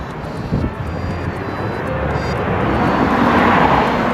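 Steady road traffic roars past a roadside pavement along the Camino pilgrimage route in Spain between San Martín del Camino and Astorga, a loud continuous wash of passing vehicles that swells slightly toward the end, with no talking.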